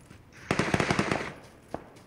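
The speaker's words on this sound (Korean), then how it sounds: "아, 나 왼쪽으로 쏜다" A rapid automatic burst of about eight gunshots rings out in the video game Battlegrounds, close and sharp, followed by one more isolated shot a moment later.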